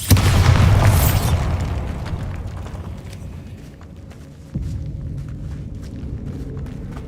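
A Bombarda blasting spell detonates in Hogwarts Legacy with a loud, close boom at the start that rumbles and decays over several seconds. A second, smaller thump follows midway, and low game ambience continues underneath.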